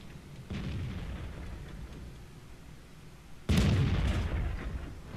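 A VK 30.02 D tank in World of Tanks fires its cannon at an enemy tank: a sharp, loud boom bursts out after a low rumbling engine bed, then a heavy roar trails off.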